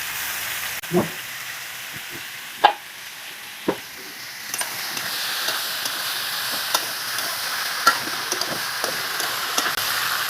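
Jackfruit vegetable curry sautéed with spices in a pan, a continuous frying hiss with sharp spatula knocks and scrapes at irregular intervals, close and fairly loud, without speech.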